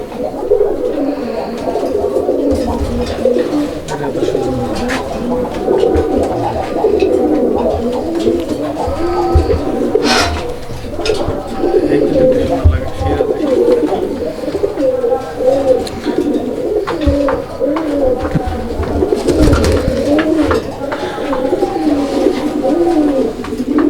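Domestic pigeons at a market sale in Bangladesh coo continuously in a loud, close, overlapping chorus, with occasional wing flutters and faint murmuring people in the background.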